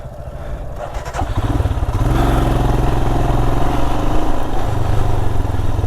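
A motorcycle engine runs on an off-road trail near Marunthukottai, Kanyakumari, idling close by and then revving up into a steady, loud mid-pitched drone with a buzzy rattle.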